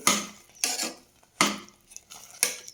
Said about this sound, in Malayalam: നന്നായിട്ട് ഇളക്കി യോജിപ്പിക്കാം